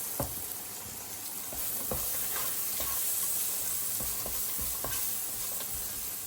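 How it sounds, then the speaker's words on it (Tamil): Sliced onions sauté with a pinch of salt in a hot pan, giving a continuous soft sizzle and hiss broken by occasional scraping stirs and light clicks, with no talking. "அதில் இப்போ வெங்காயத்தை போட்டு வதக்கி கொள்கிறோம்"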